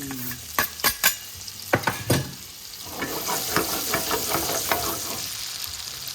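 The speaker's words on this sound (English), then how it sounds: "now I'm going to add my onion and garlic to the pan. Wait for the sizzle now." A few sharp clatters and scrapes of a utensil, then onion and garlic sizzle steadily in a hot pan, with light stirring taps under the crackle.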